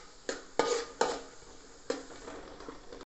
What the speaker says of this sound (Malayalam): ബീൻസും ക്യാരറ്റും ക്യാപ്സിക്കം കാബേജും ഇതെല്ലാം കൂടെ നല്ലപോലെ ഒന്ന് ഇളക്കി.